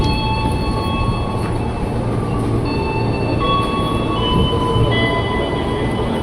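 A commuter train pulls into Cawang station, heard from on board as a steady rolling rumble with thin high wheel squeals and tonal whines drifting above it.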